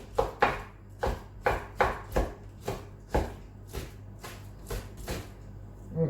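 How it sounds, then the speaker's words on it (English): A knife chops bacon into chunks on a chopping board for a Cypriot bulgar pilaf, sounding as about a dozen sharp, close knocks in an uneven steady rhythm with no talk over them. "So I'm going to chop this up into chunks."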